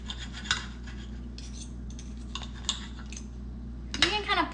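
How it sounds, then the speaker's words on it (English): A knife slices a breakfast wrap down the middle, giving scraping, rasping cuts against a plate or board, with a louder cluster of cutting sounds near the end over a steady background hum. "I'm gonna cut it down the middle for you guys"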